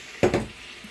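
A utensil scrapes twice through red onion, garlic, chili and chives in a pot for lamb, two quick close stirring strokes over a faint sizzle.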